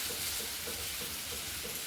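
Coriander powder, cumin powder and turmeric sauté in a pan with a soft, steady sizzle and faint stirring scrapes at a gentle rhythm, no voices.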